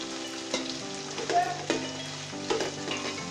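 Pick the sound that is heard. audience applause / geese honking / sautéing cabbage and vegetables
sautéing cabbage and vegetables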